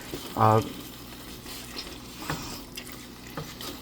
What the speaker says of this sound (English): So now we're just gonna stir up and make sure everything's all mixed together